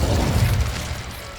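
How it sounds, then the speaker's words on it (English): Incendio fire spell cast in Hogwarts Legacy on PS5, a loud whooshing, crackling burst that fades over about a second and a half. "Incendio."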